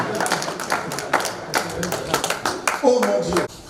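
Audience at a French-language talk on marriage and couples clapping in scattered, uneven bursts, fairly close, with voices mixed in among the applause.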